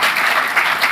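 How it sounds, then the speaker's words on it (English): Brief burst of audience applause at a conference for the moderators, a dense, close wash of clapping hands with no talk over it. "Can we give them a round of applause?"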